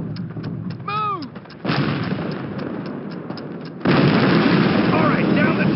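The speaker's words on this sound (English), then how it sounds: "This cannon's about to go boom." A Call of Duty battlefield at Brecourt Manor thunders with heavy cannon and artillery fire, deep booms rolling on in sustained loud bursts among gunfire, and a voice calls out briefly in the middle.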